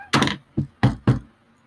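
Four sharp knocks on wood in an uneven pattern, two in quick succession, a pause, then two more, close and fairly loud with no talking.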